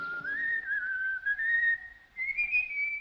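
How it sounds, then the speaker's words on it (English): A single person whistles a wandering tune, clear and fairly faint, with a short pause near the end before the melody resumes. "Listen, isn't that somebody whistling?"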